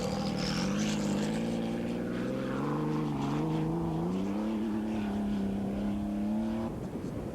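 A four-wheel-drive Rothmans Porsche rally car in the 1986 Paris-Dakar drones steadily through deep Saharan sand, its engine note holding then rising in pitch, loud and continuous before easing off at the end.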